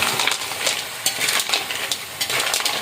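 Butter garlic seafood with shrimp sizzles loudly in a pan while being stirred, with quick scraping strokes and light metallic clinks of the utensil against the pan over the constant frying hiss.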